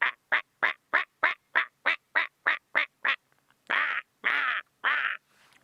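A person imitates the call of a lilac-breasted roller, giving a rapid run of about eleven short, harsh, evenly spaced squawks, then a pause and three longer rasping calls, loud and close with no other sounds.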